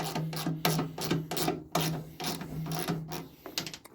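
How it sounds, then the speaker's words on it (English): A 1/4-inch ratchet clicks out bolts on a Craftsman 8/28 snowblower, with quick, close bursts of ratcheting in a steady back-and-forth rhythm and a faint mechanical hum beneath. "to take these bolts out, I like to use a 1/4-inch ratchet"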